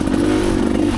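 A 300 dirt bike lugs in third gear while climbing over logs on a rough trail of rocks and roots, its engine a steady, loud, close drone with some clatter, heard briefly.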